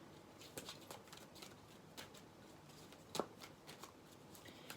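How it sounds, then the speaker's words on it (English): Sticky, film-coated tarot cards being shuffled during a reading, giving soft, faint riffling and flicking sounds with a few brief sharper snaps, close by in a quiet room. "These cards are kind of like sticky, like they've got like the film on them. So they're not the easiest to shuffle."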